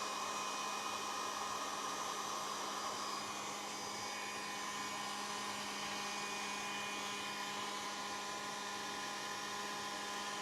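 A hair dryer runs without pause, drying sand texture paste on a mixed-media casting, giving a loud, unbroken whir with a steady hum and no speech.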